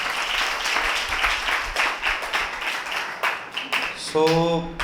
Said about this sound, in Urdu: آئیں زوردار تالیاں خدا کے کلام کے لیے بجاتے ہیں، سبھی زوردار تالیاں بجائیں۔